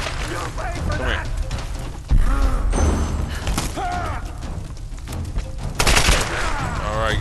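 Gunfire in Tomb Raider: Definitive Edition, with repeated shots and thuds over a dense game mix, plus two louder bursts standing out. A person talks throughout.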